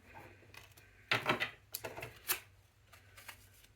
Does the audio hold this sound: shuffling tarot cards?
yes